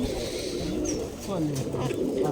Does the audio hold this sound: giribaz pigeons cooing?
yes